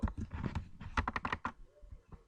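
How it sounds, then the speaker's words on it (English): Typing on a computer keyboard, a quick close burst of clicking keystrokes that thins out and stops near the end. "and then just start typing."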